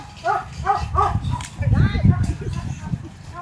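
Someone's dog barking in a few short yips and woofs, close by, mixed with people talking and moving around it.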